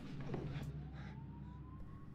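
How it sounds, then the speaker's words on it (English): Police siren from a movie scene in The Hitcher, a rising wail running steadily under a dense rumbling background, moderately loud throughout. "Jim hears sirens"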